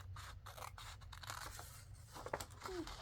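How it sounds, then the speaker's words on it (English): A craft knife cuts through paper in a series of short scratchy strokes and rasps over a low background hum, close up and fairly quiet, without talking. "cut it out with your craft knife"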